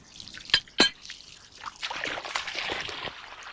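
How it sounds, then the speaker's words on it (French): Water from a mountain spring, captured 300 metres away, runs through a pipe. Two sharp splashy drips come first, then a steady, close trickle and gurgle of flowing water with no voices. "l'eau est captée 300 mètres plus loin, à une source, hein, et ça passe dans ce tuyau"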